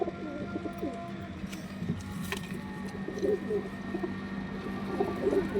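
Pigeons coo in repeated low rounded calls over a steady background hum, several birds overlapping at moderate distance with brief chirps between, and no voice over the calls.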